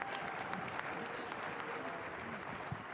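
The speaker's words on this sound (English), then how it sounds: "Can we get a round of applause over here?" An audience at a live conference build-challenge event claps steadily in sustained, even applause filling the whole stretch without rising or fading.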